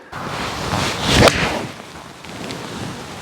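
A swish and one sharp metallic crack of a non-forged Mizuno JPX925 iron hitting a golf ball, against steady outdoor wind noise.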